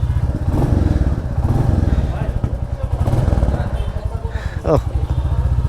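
A Royal Enfield Classic motorcycle engine running steadily with a loud, close, low thumping pulse throughout, with people talking over it and a brief clatter near the end.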